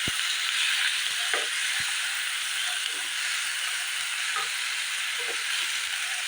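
Chopped tomato sizzles in a pan for a dhaba-style matar paneer curry, a steady bright frying hiss with occasional soft clicks and stirring taps, no voices.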